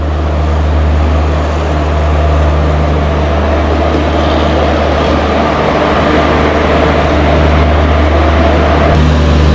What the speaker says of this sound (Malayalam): വത്സാദിൻ്റെ ഒരു WP4 ലോക്കമാണ് കേട്ടോ.